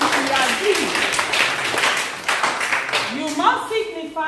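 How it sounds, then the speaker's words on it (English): An audience at a community symposium on drug abuse prevention breaks into applause, a moderate burst of clapping mixed with voices speaking over it. "A round of applause for him if you agree."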